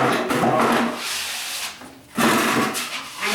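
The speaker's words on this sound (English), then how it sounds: "I'm just skimming them out tight." A drywall knife skims joint compound over screw heads on a Level 5 drywall finish, giving steady close scraping and rubbing strokes, with a short pause near the middle before the smearing resumes.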